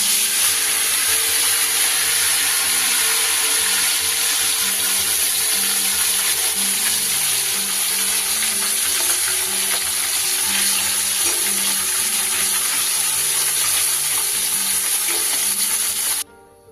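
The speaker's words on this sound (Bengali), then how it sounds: "প্রথমে আমি মাছগুলোকে ভেজে নেব।" Small chuno fish fry in hot rice bran oil with a loud, dense, continuous sizzle and hiss close up, steady for the whole stretch before cutting off abruptly at the end, no voices.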